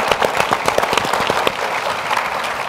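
A conference hall audience at a plenary session applauds the panelists, full sustained clapping that thins slightly toward the end.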